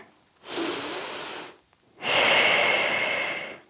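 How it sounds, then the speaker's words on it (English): Slow, deep yoga breaths during an exercise session: one long airy inhale followed by a brief pause and a longer, louder exhale, close and clear with no talking. "Inhale and exhale."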